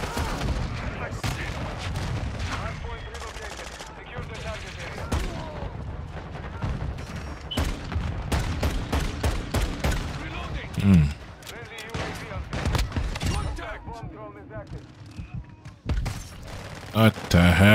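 Gunfire in Call of Duty MW2 multiplayer, a dense string of loud close shots and distant pops over busy battle noise, with a player talking at times.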